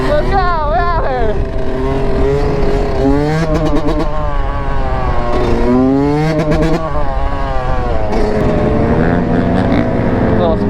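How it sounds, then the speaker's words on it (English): A sport bike at a stunt lot revs repeatedly, its loud, close engine note rising and falling in several sharp sweeps with brief throttle blips between. "Little sport bike in here."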